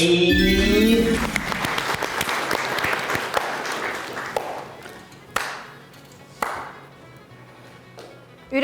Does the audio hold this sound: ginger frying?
no